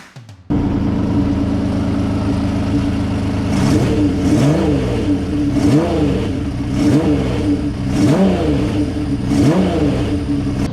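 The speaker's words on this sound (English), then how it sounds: "Please let me know which of my 6-cylinder bike sounds you like the most." A Honda CBX 1000 six-cylinder motorcycle engine starts up, idles with a smooth, loud, close drone, then revs again and again in a steady rhythm of rising and falling throttle blips, with no talking.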